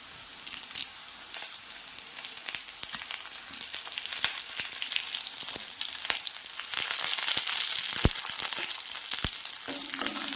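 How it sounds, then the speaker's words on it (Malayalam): Dried red chillies and curry leaves crackle and sizzle in hot oil for a stir-fried cowpea thoran, a steady busy frying hiss with sharp pops building louder toward the end. "വറ്റൽമുളക് ഇട്ടൊന്ന് മൂത്തതിന് ശേഷം നമ്മളിതിലേക്ക് ആവശ്യത്തിന് കറിവേപ്പില ഇട്ട് കൊടുക്കാം."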